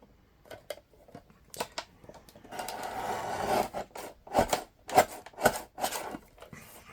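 A small handheld paper cutter slices through paper for album matting, producing a series of short rasping, scraping strokes in an uneven rhythm, close and fairly quiet, with no talking over them.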